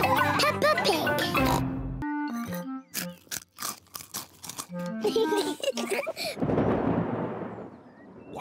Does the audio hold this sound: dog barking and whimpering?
no